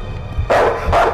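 Dogs barking in the horror video game Night People, two loud close barks about half a second apart over a low rumbling background.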